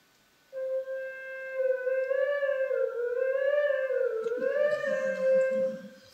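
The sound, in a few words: synthesizer siren-like pitch sweep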